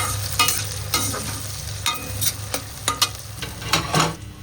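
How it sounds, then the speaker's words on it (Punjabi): An onion and tomato tempering sizzles steadily in a hot pan while a utensil stirs and scrapes, making irregular clinks over the constant frying hiss. "ਪਿਆਜ਼ ਟਮਾਟਰਾਂ ਦਾ ਤੜਕਾ"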